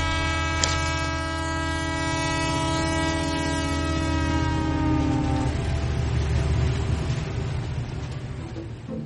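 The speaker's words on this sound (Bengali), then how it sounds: "এমন সময় কলকাতা থেকে ট্রেন এসে পৌঁছল।" A train arriving at a station from Kolkata sounds a long, loud horn, which cuts off as the heavy rumble and rattle of the rolling train carries on.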